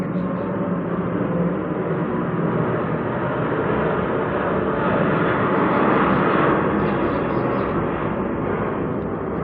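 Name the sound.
airplane flying overhead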